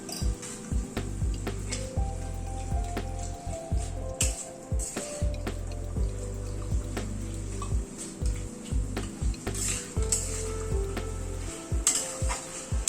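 Chicken frying with spices in a pan sizzles steadily up close, broken by repeated stirring scrapes and clinks. Low background music plays under it.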